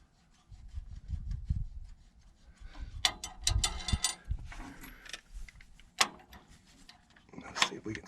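A wrench works loose the fuel injector inlet line on a Case loader, giving close ratcheting clicks and scraping metal rubs in uneven bursts, with low handling thumps underneath.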